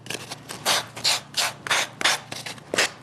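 A wooden bird carving being rubbed and smoothed with a hand-held abrasive, about eight rhythmic rasping strokes, close and fairly loud, each a short scratchy burst with quiet gaps between them.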